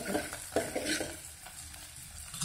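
Mutton masala roasts in oil until the oil separates, heard as a faint sizzle broken by a few soft scraping stirs. No voices.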